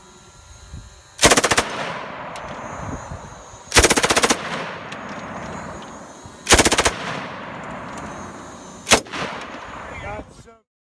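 MG 34 machine gun mounted on a 1942 Zundapp motorcycle firing four loud, close bursts, three long and one short, each with a sharp rattling onset and a decaying echo between.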